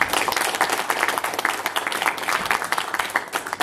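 An audience at a kickboxing demonstration claps, a fairly dense burst of applause that swells and flickers unevenly throughout, moderately loud in the hall with no voices over it.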